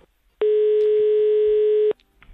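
A telephone line gives one loud, steady electronic tone on a call, lasting about one and a half seconds between quiet background noise. It starts abruptly and cuts off cleanly.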